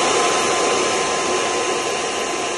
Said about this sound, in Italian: Fon, e andiamo ad asciugare.